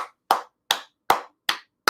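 One person claps alone, six sharp, evenly spaced claps close to the microphone, each crisp slap followed by a brief silence.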